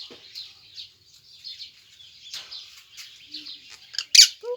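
Small parrot calls, lovebird and ring-necked parakeet, light chirps and squawks scattered throughout, ending in a louder, sharper squawk near the close. No speech.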